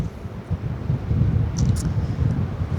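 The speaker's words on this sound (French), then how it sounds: "Alors, il y a beaucoup de vent." Strong wind buffeting a microphone, a low, rumbling roar that swells and stays loud throughout.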